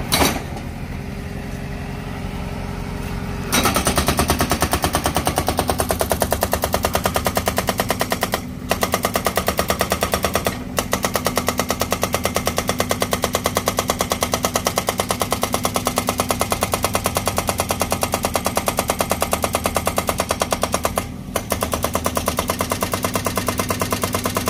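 Excavator-mounted hydraulic breaker chiselling apart the concrete base of a large Guan Yin statue at a temple, a loud, rapid, relentless hammering over a running engine, broken by a few brief pauses.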